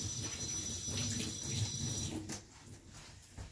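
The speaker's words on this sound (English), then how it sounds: "Got water going everywhere." Tap water runs steadily into a kitchen sink during washing up, a broad continuous splash that tapers off near the end, heard up close with no talking.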